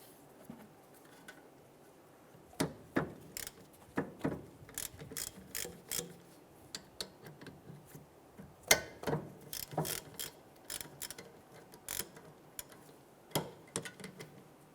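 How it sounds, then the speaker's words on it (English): A hand ratchet with a 14mm socket works loose the rear brake caliper bolts on a 2012-2017 Toyota Camry, giving bursts of close, sharp clicking in irregular runs over a quiet garage background. "Using our 14mm socket with our ratchet, we're going to go ahead and loosen and remove the 2 caliper bolts here."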